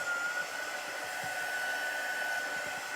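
A hair dryer blows steadily on chalk paste over a craft project, a constant whirring hum and airy rush with a thin motor whine, close and unbroken for the whole stretch.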